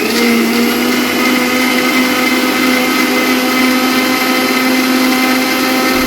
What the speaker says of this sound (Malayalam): മിക്സി റൺ ചെയ്ത് കൊടുക്കാം